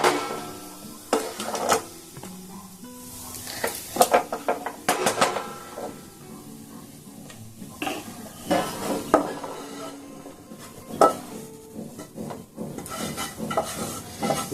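Hot laddu mixture being poured into a brass plate makes a run of close metallic scrapes, knocks and clinks, irregular and fairly loud, with brief sizzly hiss between them and no talk.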